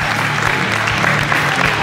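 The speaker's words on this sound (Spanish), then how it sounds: "Un aplauso, tercer puesto." A crowd claps at a rally awards ceremony for the third-place women's team, a short burst of dense, loud applause heard close up.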